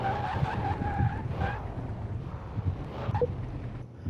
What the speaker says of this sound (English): Now we got to keep it straight and do a brake test